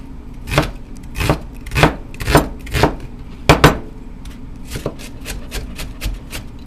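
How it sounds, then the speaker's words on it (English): Knife chopping onion on a cutting board for a fresca: a series of sharp, fairly close chops in uneven bursts, with a brief pause midway, then a quicker run of lighter cuts. "we're just going to get our onions chopped up here"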